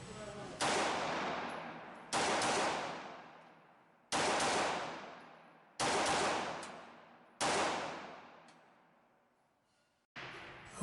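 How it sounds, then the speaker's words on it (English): Smith & Wesson Model 39-2 9mm semi-automatic pistol fired at an outdoor range, six sharp loud reports spaced about one and a half to two seconds apart, each ringing off in a long fading echo. "Let's try a little double tap shooting."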